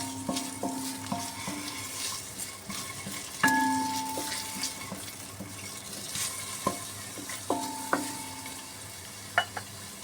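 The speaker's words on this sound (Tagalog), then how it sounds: "White onion yan. Isayin natin siya" White onion sautéing in a pan, a soft continuous sizzle broken by several sharp metallic clinks and scrapes from a utensil against the cookware, close by with no talking.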